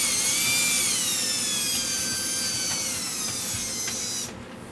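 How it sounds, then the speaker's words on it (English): A cordless drill mixing cookie batter whirs at high speed with a whining pitch that slowly falls as it strains, then cuts off abruptly near the end. "break out your cordless drill for your wife when you make cookies"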